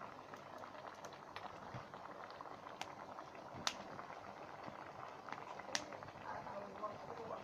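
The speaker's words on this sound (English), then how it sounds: "most of the coconut milk from the bottom has boiled up to the top" Coconut milk boils in a pot of Grenadian oildown over a fire, a steady close bubbling simmer with scattered sharper pops.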